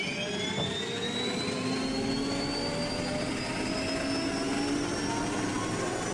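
Jet turbine running in the Minecraft video game, a continuous loud, roaring whoosh with a whining high tone that slowly rises, steady throughout with no talking.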